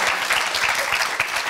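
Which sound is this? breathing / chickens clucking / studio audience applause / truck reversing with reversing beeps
studio audience applause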